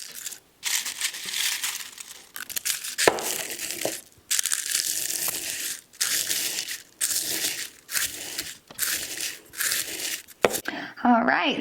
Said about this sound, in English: now that I have kind of ground up my Echinacea leaf